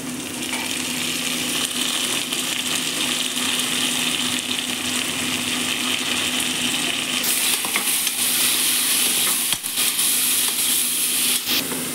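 Onion and coriander leaves sizzle steadily in a hot pan for vegetable palav, a continuous close crackling fry with occasional stirring clinks, no voices.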